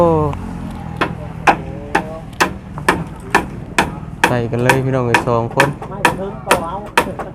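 A hammer strikes repeatedly during house construction, about fourteen sharp, loud blows in a steady rhythm, with people talking over them.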